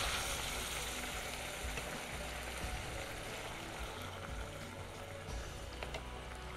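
Meat and onions in water sizzle and bubble steadily in a pot, a soft continuous hiss with light gurgling, close by and fairly quiet.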